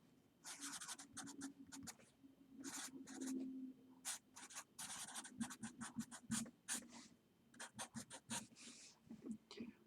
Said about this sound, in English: let me write it first